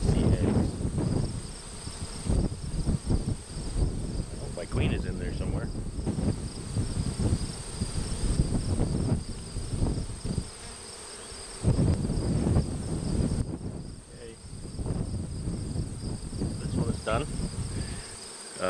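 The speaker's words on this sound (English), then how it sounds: "I have more frames of bees here" Honeybees drone in mini mating nucs being prepared for wintering: a continuous, close hum with fluctuating intensity and a few quiet voice-like sounds in the background.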